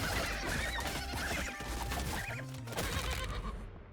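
Horses whinnying amid clashing and crashing in a video game battle, several short neighs over a dense, loud mix of combat noise with no talking.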